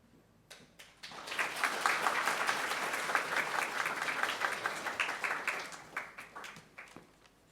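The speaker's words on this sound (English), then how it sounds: "a big round of applause for such an incredible, wonderful kickoff for the No Plastic campaign" An audience at a meeting launching a no-plastic campaign applauds, a dense burst of many hands clapping that builds quickly, holds for several seconds and then thins to scattered claps.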